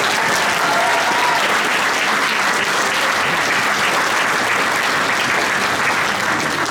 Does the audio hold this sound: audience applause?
yes